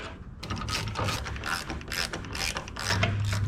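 Bolts on an IH 1066 tractor clutch are driven with a ratchet, giving a quick, steady train of close metallic clicks with brief pauses, heard alone with no talk.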